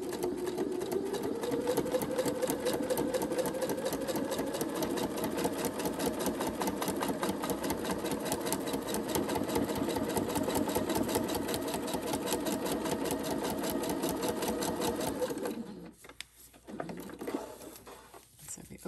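A sewing machine runs a quarter-inch seam through quilt block fabric, a steady, rapid stitching whir that continues for about fifteen seconds and then stops, followed by light handling noise.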